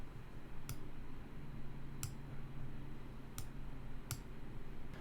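Computer mouse clicks during 3D bone editing: four sharp, isolated clicks spaced irregularly over a few seconds, heard against a steady low background hum.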